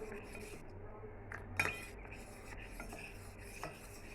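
A utensil scrapes and rasps against a pan as cornflour slurry is stirred into chilli paneer, with a few metallic clinks and one sharper knock amid steady low kitchen background.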